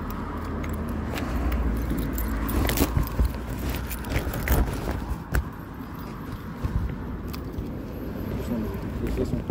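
Keys jangle up close in short metallic bursts beside a parked car during a police bodycam encounter, with voices talking over them throughout.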